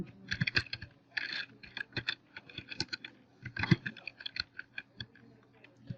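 Rapid, irregular keystrokes on a computer keyboard as HTML code is entered, close and fairly quiet, with short pauses between bursts of clicking.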